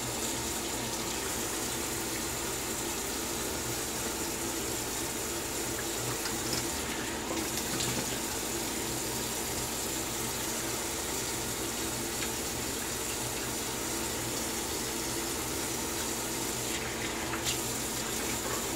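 Tap water runs steadily into a sink for rinsing after a straight-razor shave, a constant loud gushing splash with no pauses.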